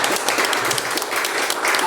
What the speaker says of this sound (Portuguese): Posso ouvir a salva de palmas bem forte para Jesus?